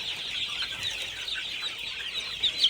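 Young broiler chickens raised at home chirp and cluck together in a continuous, busy peeping chorus, close and steady, with no one speaking.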